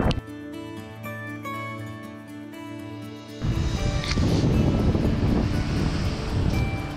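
Wind and low surf on a beach on a morning with an easterly wind. A steady roar of wind buffeting the microphone grows louder partway through, with the wash of the waves underneath and no talking.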